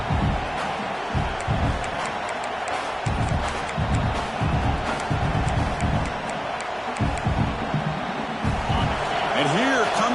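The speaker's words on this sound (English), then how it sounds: "This crowd is trying to inspire this defense to make a big red zone stop." A football stadium crowd roars continuously as the home defense faces a red zone stand, a dense wall of cheering noise under someone commentator's voice.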